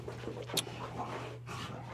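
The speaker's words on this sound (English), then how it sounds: "These dogs are out of control." Dogs panting close by, a steady breathy rhythm running through the whole stretch, with a sharp brief knock partway in and some scuffling movement.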